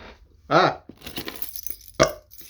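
Keys jangle and clink in two short bursts, close and fairly loud, while being used to open a bottle of Redstone Meadery mead, with quieter rustling and handling between them.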